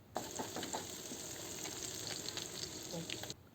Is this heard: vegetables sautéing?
yes